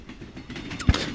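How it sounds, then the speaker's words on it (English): A freight train in the Midnight Fight Express video game rumbles briefly, with a low heavy thump and a louder burst near the end of a short clip. "That's our train."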